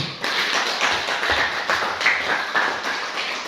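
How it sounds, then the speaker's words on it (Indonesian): A classroom audience claps hands for a student after a Python coding lesson, a steady patter of many overlapping claps from the start to the end, fairly loud and close. "Kita beri tepuk tangan dulu."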